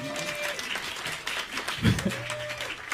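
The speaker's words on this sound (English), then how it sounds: "I want a round of applause for" An audience at a Barbra Streisand tribute cabaret show at Rockwell applauds the accompanist, a moderate round of clapping mixed with voices and a brief low thump partway through.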